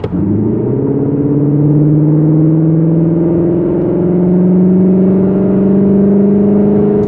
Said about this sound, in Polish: a teraz włączymy tryb Cupra i wbijemy gaz w dechę